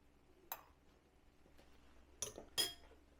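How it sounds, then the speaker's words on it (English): A spoon stirring mushroom soup in a Ninja soup maker gives a few sharp metallic clinks: one tap, then two quick knocks close together over a quiet background. "just going to give it a little stir"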